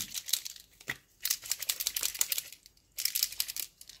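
Sheets of white tissue paper for scrapbooking crinkle and rustle as they are handled, in dense bursts with short quiet gaps, close and fairly soft.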